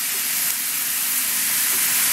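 Tomatoes hit a hot pan for Provençal ratatouille and set off a steady, broad sizzling hiss that keeps going at an even level.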